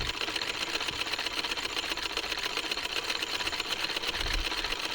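Sewing machine stitching a decorative cuff design on a salwar, a steady continuous whir running close and alone throughout, with a faint extra thump near the end.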